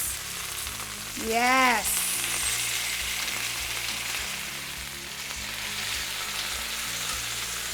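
Stuffed chicken breast sizzles steadily in a frying pan, a loud continuous hiss near the mic, with one brief squeaky scrape early on and a short spoken word.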